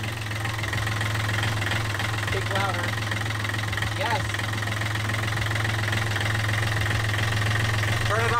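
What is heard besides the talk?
Yanmar marine diesel engine running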